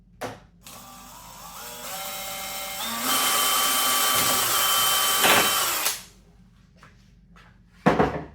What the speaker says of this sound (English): So we just drilled another hole here.